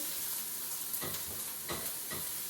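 Onions caramelizing in butter and bacon fat in a pan, giving a steady close sizzle with a few swelling bursts of frying noise and no talking.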